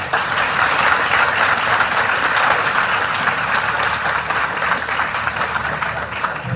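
Sustained applause from a large congregation at a Catholic priestly ordination, a dense, steady wash of many hands clapping throughout, loud and close with no pauses.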